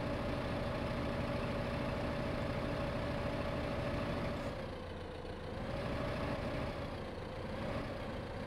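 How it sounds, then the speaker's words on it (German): A large tractor engine idles in the Farming Simulator 2015 video game, a steady droning rumble with a constant tone that dips and wavers slightly partway through, heard alone without speech. "Komm schon, das ist einer der größeren Traktoren."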